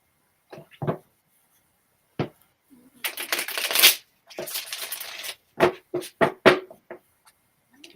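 A deck of tarot cards is shuffled up close in several bursts of riffling and flapping, separated by brief taps and pauses, with no talking.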